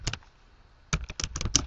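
Fingers typing a search on a computer keyboard, a short burst of clicks, a pause, then a quicker run of crisp, close keystrokes, with no talk.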